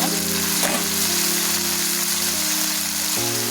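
Pulao rice tossed and stirred with a wooden spoon in a pan makes a continuous loud sizzle and scraping, with a steady low mechanical hum running underneath.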